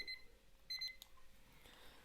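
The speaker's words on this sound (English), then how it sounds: "So timer's up." A timer goes off with short electronic beeping bursts, faint and thin against a quiet room hiss.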